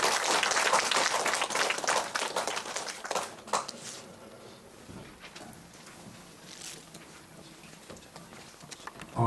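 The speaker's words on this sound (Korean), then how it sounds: "여러분 큰 박수로 모셔주시기 바랍니다" An audience applauds to welcome a speaker at a pet management system conference, loud dense clapping at first that fades to a quieter spatter and then near silence.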